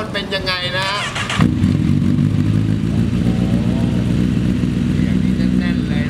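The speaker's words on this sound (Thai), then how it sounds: "เดี๋ยวเรามาฟังเสียงเครื่องยนต์กับเสียงท่อเทอร์มิใบเดียวใบนี้" A Honda CBR1000RR with a Termignoni exhaust fires up after a brief spoken intro and settles into a loud, steady, throaty idle close by.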